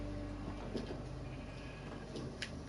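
Sheep bleating in Minecraft: several faint, short bleats scattered over a quiet, steady background hum, with no talk.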